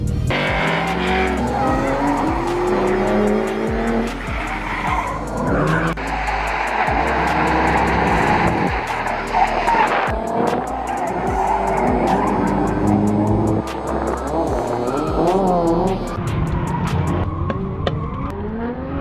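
Drift car tires squeal loudly and continuously through repeated slides, the engine revving and roaring underneath across several laps close by.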